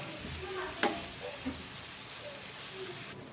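Butter chicken masala with curd and ginger garlic paste fries in a pan, giving a soft, even sizzle with a couple of faint stirring knocks, fairly quiet and continuous.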